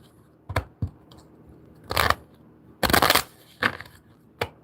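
Tarot cards are shuffled close by in short riffling bursts, some quick flicks and a couple of longer rustling runs separated by brief quiet gaps.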